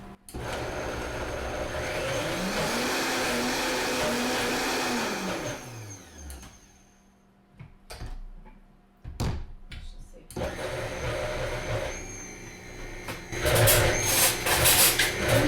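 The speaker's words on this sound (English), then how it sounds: "And now we'll blend this up" A countertop food blender whirs loudly and steadily at close range as it blends white bean shakshuka ingredients with a little added water, the motor pitch rising then dropping away as it stops; after a pause with clatter and talk, it starts again.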